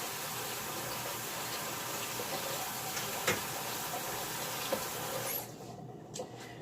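Cooked brown rice pasta is rinsed under a steadily running tap, a constant broadband wash of water with a few soft clunks, until the flow stops near the end and leaves a quieter tail.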